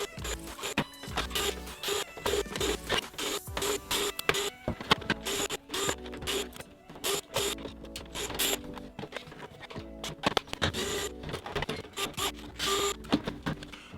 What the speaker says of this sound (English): We're going to start by removing all the screws on the outside of the toy.